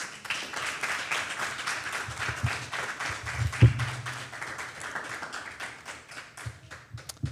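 Round of applause for Port Antonio High School at a school debate competition, with sustained clapping from an audience throughout, fairly even in level with a few sharper taps.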